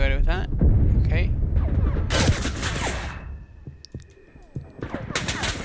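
Bursts of rapid gunfire from a World War II–style shooter video game, loud crackling volleys separated by quieter gaps with faint clicks, mixed with in-game audio.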